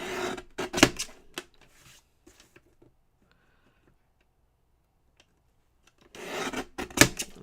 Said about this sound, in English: I'm going to trim this edge.